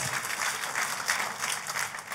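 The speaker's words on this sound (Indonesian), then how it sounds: "tepuk tangannya yang paling meriah buat Tuhan kita" Church congregation applauding at a worship service, a steady dense wash of clapping hands sustained evenly throughout, moderately loud and without talk over it.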